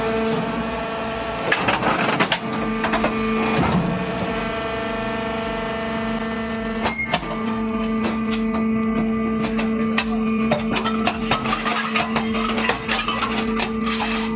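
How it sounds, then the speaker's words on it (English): Industrial crushing machines grind and compress scrap metal and steel bars, a loud continuous mechanical roar with steady droning hums, clanks and metallic bangs scattered throughout, no voices. "These machines are operating at full capacity, crushing and compressing metal scrap and steel bars into small fragments."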